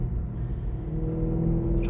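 A 2012 Mercedes C63 AMG with its 6.3 V8 rumbles steadily while driving slowly, a low continuous engine drone heard from inside the car with no talking.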